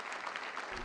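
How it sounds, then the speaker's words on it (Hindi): Audience applause at a poetry gathering welcoming a poet to the microphone, a steady wash of clapping throughout the short moment, moderately loud and without speech. "जोरदार तालियों से आप इनका इस्तेकबाल फरमाएं"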